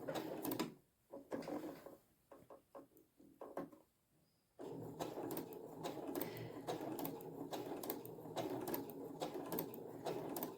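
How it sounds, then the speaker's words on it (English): A sewing machine with a walking foot stitching a patchwork coaster, first a few short back-and-forth backstitch bursts, then one long even run of stitching, close but moderately quiet. "I'm going to back stitch. A couple of times there I back stitch, and just roughly I'm just going to follow these lines."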